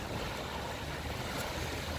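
Ocean waves wash against a seawall at Waikiki on a calm day, a steady unbroken roar of surf with wind noise over it and no voices.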